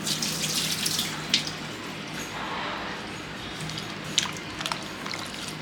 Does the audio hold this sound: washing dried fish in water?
yes